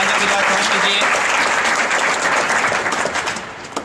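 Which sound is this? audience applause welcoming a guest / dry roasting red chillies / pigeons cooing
audience applause welcoming a guest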